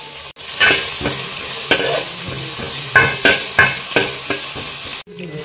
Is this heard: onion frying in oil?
yes